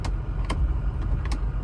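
A car rolls past outside a Ford Powerstroke truck at night, a steady low engine-and-tyre rumble holding through the short stretch with a few faint higher ticks, moderately loud and without any talking.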